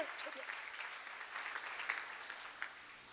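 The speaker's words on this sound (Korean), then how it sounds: "빨리 박수" An audience at a seminar applauds, giving a faint, scattered patter of clapping. The sound is quiet and continuous for about three seconds.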